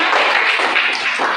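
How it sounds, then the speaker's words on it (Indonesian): Students in a classroom clap together, a brief, dense burst of steady applause at close range with no talking. "Ya, tepuk tangan."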